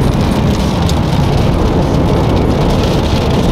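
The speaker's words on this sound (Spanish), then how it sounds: "pensabais que nos íbamos a librar de la lluvia hoy" Steady rain falls during a stop on a stage of the Giro d'Italia, a dense, continuous hiss of drops on surfaces, loud and close throughout with no voices.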